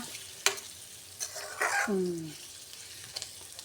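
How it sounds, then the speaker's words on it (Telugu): A spoon stirs spinach and onion curry with turmeric in a pan, giving a few scraping strokes over a soft sizzle, with a brief clatter near the start and a short rising tonal squeak midway. "ఇంకో పసుపు వేసిన మంచిగా కలపాలి"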